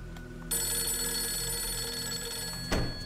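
A phone rings insistently in the horror video game Fatal Frame 3, a loud sustained electronic ring that begins sharply after a brief pause and continues steadily, with a burst of noise near the end and no talk.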